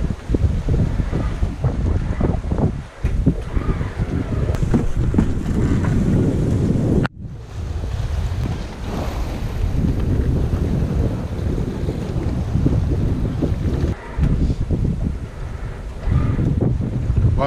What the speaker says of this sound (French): 15 nœuds de vent, sud-ouest, avec la houle.